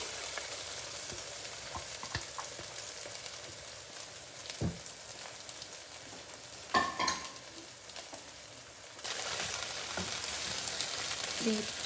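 Ground onion paste frying in a pan for a Telugu bitter gourd fry, a steady close sizzle throughout with occasional stirring scrapes, growing a little louder near the end.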